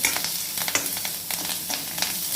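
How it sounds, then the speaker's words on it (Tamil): Sliced onions sauté in hot oil in a pan while cooking a drumstick curry, giving a continuous crackling sizzle broken by frequent scraping stirs of a spatula, close and fairly loud with no talking. "நல்லா வெங்காயத்தை கொஞ்சம் நல்லா வதக்கி விடணும்"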